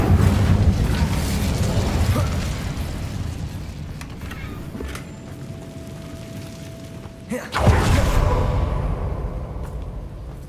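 Incendio fire spell blast in Hogwarts Legacy, a loud whooshing burst that cuts in near the end over a steady rumbling game soundscape, with a brief sustained tone before it.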